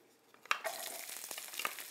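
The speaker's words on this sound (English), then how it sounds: "Hear the sizzle? I love the sizzle." Onions hit hot olive oil with a sudden crackle, followed by a steady, close sizzling and frying hiss.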